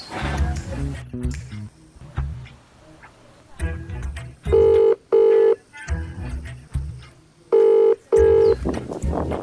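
A phone being dialed: keypad tones beep in two pairs of steady held notes, with clicks and a low hum around them, fairly close, and no talk.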